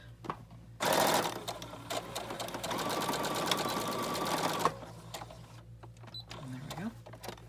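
A sewing machine stitches a small fabric pocket for an accordion journal, running in a close, steady rapid whir for about four seconds and then stopping, with quieter handling noise afterward.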